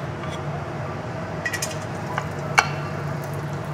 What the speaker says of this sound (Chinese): 锅稍微热一点，我们就可以把肉下去，因为这个腊肉啊，我喜欢把它煸的油脂出来多一点